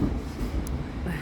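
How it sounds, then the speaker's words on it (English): A train passing close by, a steady low rumble with faint rail clatter throughout, under some background chatter of children nearby. "Train."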